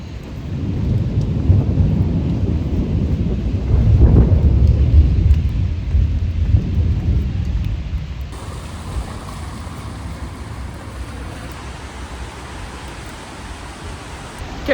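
Rain pouring on the streets of Rome during a storm, a steady loud hiss with a deep rumble of thunder swelling midway and then fading to softer rainfall.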